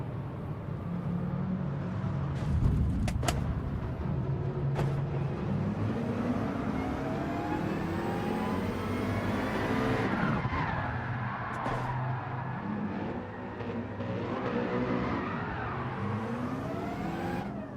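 Race cars, including a Porsche and a McLaren, roar through a Gran Turismo 7 race with continuous engine drone, rising and falling revs through gear changes, and other cars passing close by.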